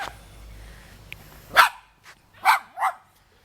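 Puppies barking in a few short, sharp yips, one then two more in quick succession near the end, fairly close, after a quiet stretch with faint background noise.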